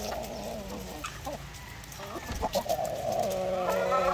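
Chickens on a farm feeding on coconut pulp, heard as soft clucking and scattered pecking noises nearby over a steady background hum, with a faint voice in the mix.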